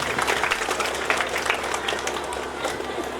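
Loud sustained applause from a crowd at a religious gathering, continuous dense clapping with some voices mixed in.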